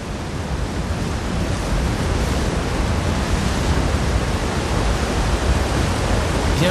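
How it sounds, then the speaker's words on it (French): Steady, dense wind roaring in Clockwork City in The Elder Scrolls Online, a continuous broadband rush with little variation, loud and close, with no voices. "c'est encore plus venteux que dans mes souvenirs."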